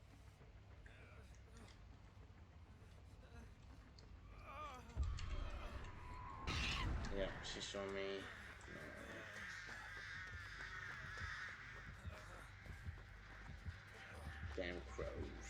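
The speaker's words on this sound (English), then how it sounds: "Damn crows." Crows cawing in the horror video game Dead by Daylight, several harsh caws near the middle over faint game ambience, with a player speaking briefly.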